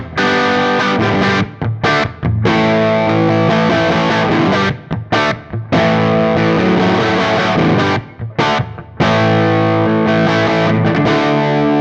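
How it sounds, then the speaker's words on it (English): Classic rock crunch guitar through a Fractal Audio Axe-Fx II XL+, driven power chords strummed in loud sustained bursts with a few short stops between phrases, nothing spoken. "to classic rock crunches"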